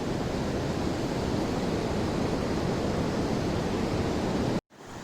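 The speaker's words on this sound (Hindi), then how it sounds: "एक बहुत ब्यूटीफुल झरना दिखा है जो कि मंदाकिनी रिवर में जाके मिल रहा है" A waterfall pours into the Mandakini river as a dense, steady roar of rushing water, loud and close, cutting off sharply near the end.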